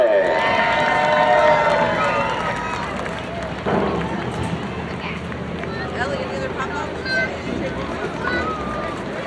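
A crowd at Flat Rock Speedway cheers and applauds Billy Early, winner of the Motor City 50 figure-eight feature race. The loud, steady roar of voices carries on throughout, with a public-address voice talking over it.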